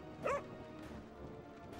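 One short, sharp dog bark rings out close by near the start, then only a quiet room hum remains.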